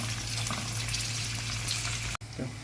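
Green chilies sizzle in hot oil as a tadka tempering for kadhi pakora, a steady, close, hissing crackle over a low hum that runs for a few seconds with no talking.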